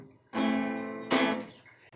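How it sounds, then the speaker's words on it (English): An acoustic guitar chord is strummed normally through a microphone at a demo stage, two bright strums ringing out and decaying within a couple of seconds. "So normally, you play a chord,"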